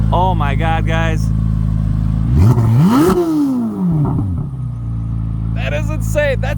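A stock-exhaust Chevrolet Corvette C8 Z06 with the Z07 carbon fiber package gives one loud, close rev that rises sharply and falls back to a low rumbling idle. Excited voices talk before and after it.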